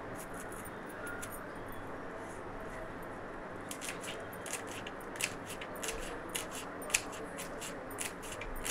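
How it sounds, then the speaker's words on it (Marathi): A knife chops green chilies finely on a board for a Maharashtrian-style sev tomato bhaji, giving soft rapid tapping that grows into sharper, quicker cuts, close and fairly quiet over a steady background hiss. "ह्या अशा एकदम बारीक करून घ्यायच्या या मिरच्या।"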